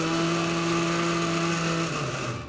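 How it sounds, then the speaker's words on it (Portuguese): A kitchen blender whirs steadily at high speed, blending cooked cassava with salt and milk for a chicken soup, loud and close with a strong motor whine that holds, then winds down and fades at the end. "vamos fazer o nosso liquidificador trabalhar"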